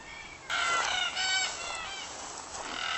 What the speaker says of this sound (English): All around me, Biluwarra, red-tailed black cockatoos